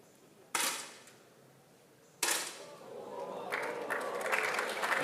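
10m air rifle shots at a shooting world cup final: two sharp, close cracks about two seconds apart, the second followed by rising applause and crowd noise that swells and continues to the end.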